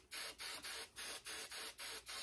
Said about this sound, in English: I take this and spray it with the hairspray.